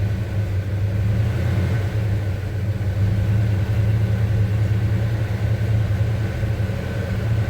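A 1975 Chevy C10 shop truck idles close by, its engine a steady low rumble that stays even and unbroken from start to finish, with no talk.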